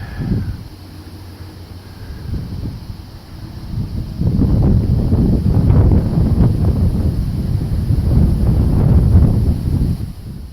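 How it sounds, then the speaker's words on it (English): Wind gusting across an open viewpoint after a long hiking climb near Vernon, New Jersey, a low rumbling buffeting that starts faint and swells into a steady, loud roar for the second half. "And there's a nice breeze"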